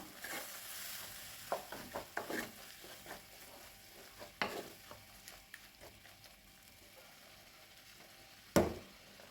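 Chili and kuzhambu powder are sautéed in a pan, with quiet intermittent scraping and stirring strokes over a faint sizzle, ending in one sharper clank of the utensil, close and without talking.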